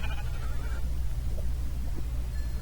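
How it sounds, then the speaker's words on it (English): Sheep bleating in Minecraft, a faint short call at the start over a steady low rumble of game background noise. "And we have tiny little sheep."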